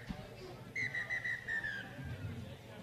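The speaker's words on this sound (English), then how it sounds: "As we hear the halftime whistle siren." A single sustained halftime whistle sounds at a rugby league cup match at a park between Corrimal Cougars and Thirroul Butchers, a clear steady tone lasting about a second over faint crowd murmur.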